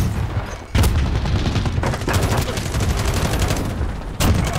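Dense sustained automatic fire from a Hoga light machine gun in a video game's hard point mode, loud and continuous with brief breaks near the start and end.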